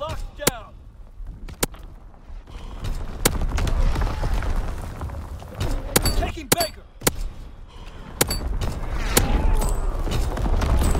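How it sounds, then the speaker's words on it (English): Enemy artillery fire in Call of Duty WWII, a dense, rumbling barrage of booms and sharp cracks over a constant low roar, with louder blasts scattered through, mixed with game voice callouts. "Incoming enemy artillery."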